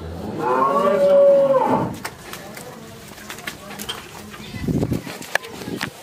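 A heifer lets out one long, loud low near at hand at a cattle sale in Sargodha, followed by people talking and some clattering in the background.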